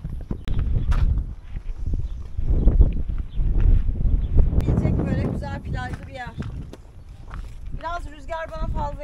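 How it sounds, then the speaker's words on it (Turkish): Strong wind buffets the microphone in low rumbling gusts on a seaside walk in Koroni, Greece, while people talk over it toward the end. "Burada o kuduruk rüzgar çıktı."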